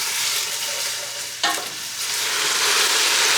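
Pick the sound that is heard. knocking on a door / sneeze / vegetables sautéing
vegetables sautéing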